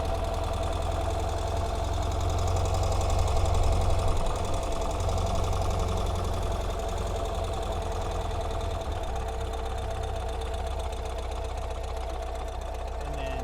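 A modern Ural motorcycle with two-wheel drive pulling in second gear: a steady, loud, throbbing engine drone that holds constant for the whole stretch, with no speech.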